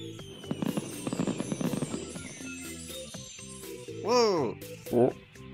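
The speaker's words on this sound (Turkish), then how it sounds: "Bak Carl, havai fişekler." Cartoon fireworks: a flurry of crackling pops, then two rising whistling rockets that burst loudly near the end, with music underneath.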